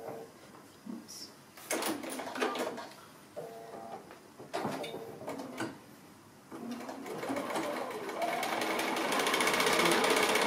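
Sewing machine stitching a quilt's sashing along a drawn line, close and loud, running in several short bursts with pauses, then one longer steady run near the end.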